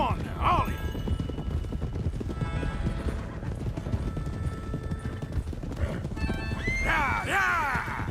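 Several horses whinny and neigh over steady galloping hooves in Red Dead Redemption 2, with loud, shrill calls near the start and again toward the end, above a continuous clip-clop of a running herd.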